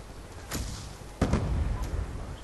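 A grenade blast in Black Ops 2 gameplay: a sharp, heavy thump with a rumbling tail, preceded by a fainter report, amid continuous game noise.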